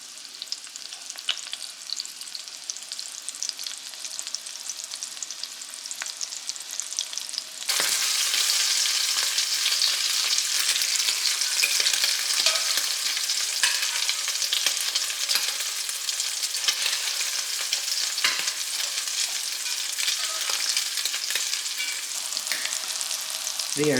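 Four crab cakes made with lump crab meat fry in a pan over a medium flame, a continuous crackling sizzle that steps up sharply to a louder, denser hiss partway through and holds steady.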